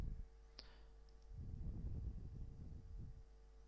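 Computer mouse clicks in a spreadsheet: one sharp, faint click, then a few softer clicks, close and quiet over a low hum and rumbling background.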